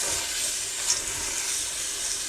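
Water from a tap runs steadily while bitter ball is washed, a constant close rushing hiss with no talk.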